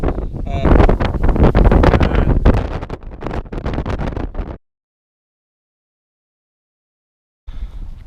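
Wind buffeting an unshielded GoPro microphone outdoors on moorland at West Nab, Yorkshire, loud rumbling gusts that cut off to silence, then resume briefly at the end.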